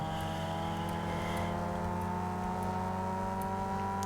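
A street race in Need For Speed Underground 2 fills the soundscape with a continuous, steady car engine drone at high revs and a layered whirring hum, unbroken for the full length with no voices.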